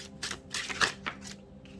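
Tarot cards being shuffled by hand, a few quick papery riffles and slides arriving in short bursts, close and moderately loud.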